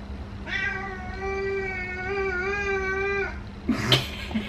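A cat gives one long, drawn-out meow lasting a few seconds, close and clear, followed by a brief rustle.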